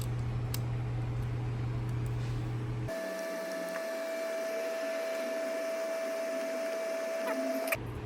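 A powered driver sets screws into a Twisted 8 speaker lid, giving a steady whining motor tone that runs for several seconds over a constant background hum.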